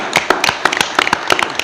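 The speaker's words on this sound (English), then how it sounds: "A round of applause for our wonderful speakers" A small audience at a science and development finance event gives a brief round of applause for the speakers; a scattering of individual claps, close and crisp, in an uneven patter.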